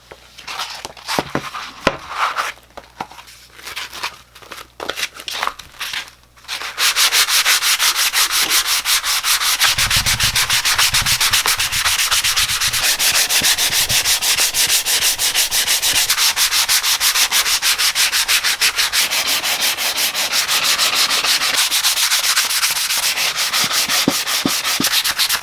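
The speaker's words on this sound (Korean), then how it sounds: "우리는 이 320방짜리 그 천사포를 이용해서 샌딩 작업을 해보도록 하겠습니다." A wooden kalimba body is sanded by hand with 320-grit cloth sandpaper in a workshop, a steady, close, continuous rasping rub that runs without a break after a few seconds of scattered handling noise.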